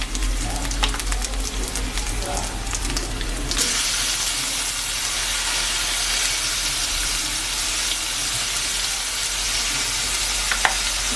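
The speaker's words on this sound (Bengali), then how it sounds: "এখানে একটা মিডিয়াম সাইজের পেঁয়াজ সুন্দর করে পেস্ট করে আমি দিয়েছি। আর এটা ভালো করে ভেজে নেব।" Onion paste hits a hot pan of fried ginger-garlic paste for a prawn and potato curry, breaking into a loud, steady sizzle that fills the rest of the clip after a quieter start with clinks.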